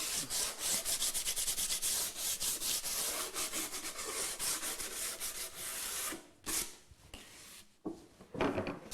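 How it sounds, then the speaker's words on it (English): Fine sandpaper run along the edge of a cherry board, giving close, steady rhythmic rasping strokes that turn into a few scattered rubs near the end. "just to clean up the edge, just run a little bit of fine sandpaper over it"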